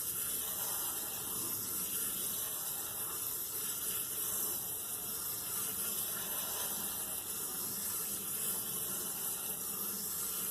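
Water pours steadily into potting soil mix in a seed-starting container, a continuous soft hiss and trickle that stays even and close throughout, with no voices.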